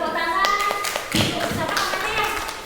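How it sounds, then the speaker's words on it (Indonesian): Applause from a small school audience, scattered hand claps and taps that come in uneven bursts and mix with children's voices and speech nearby. "beri tepuk tangan"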